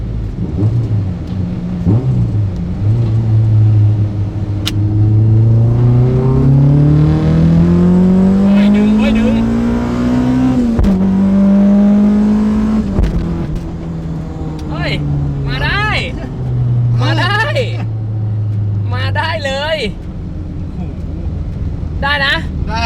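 A Honda Civic EK coupe with a B18/B20 engine revs high up close. The loud engine note climbs, peaks and falls back in long sweeps, with a voice talking over part of it.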